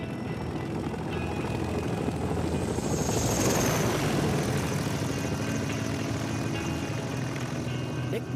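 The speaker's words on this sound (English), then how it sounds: "this tandem rotor workhorse from the 1950s lifted troops and supplies at record speeds" A 1950s tandem-rotor military transport helicopter flies by with a continuous loud rotor and engine roar that swells slightly midway and stays steady, heard alone with no talking.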